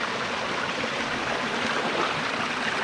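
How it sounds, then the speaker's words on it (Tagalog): Hot, boiling spring water pours down as falls in a steady, dense rushing roar that holds even and loud throughout, with no other sounds. "tatlong bagsakan ng tubig na kumukulo"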